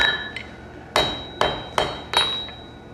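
Blacksmith's hammer forging a shoulder on hot stock over an anvil, five sharp ringing metallic strikes spaced roughly half a second apart, each with a short bright ring after it.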